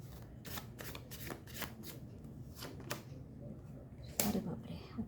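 Tarot cards are shuffled in quick, crisp riffling bursts, a run of soft rapid flicks followed by a sharper snap near the end, with a voice speaking quietly.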